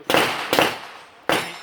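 Revolver shots at an outdoor shooting range: three sharp, loud blasts, two in quick succession and a third after a pause, each with a short decaying tail.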